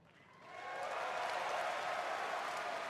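Audience applause at a BlizzCon Hearthstone presentation rising quickly from quiet into a dense, sustained wash of clapping from a large hall crowd, holding steady with no talk over it.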